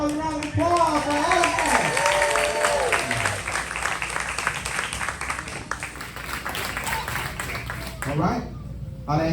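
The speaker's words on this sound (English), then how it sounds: "Give it up another round of applause for Adeline" Audience applause for a singer at a community singing event, a loud, sustained wash of clapping with a few voices and musical tones over it, fading near the end.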